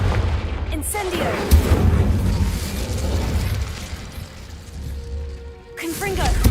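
Incendio fire spell cast in Hogwarts Legacy, a loud burst of flame with booming impact and rumbling low end, then a second whooshing burst near the end, under game music and voices.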